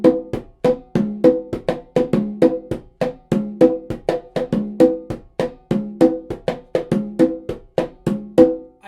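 Puerto Rican plena rhythm on hand drums, right hand sounding the llamador on the tumbadora and left hand the repicador on the conga: a steady, busy stream of close, resonant slaps and open tones in a repeating syncopated pattern, no voices.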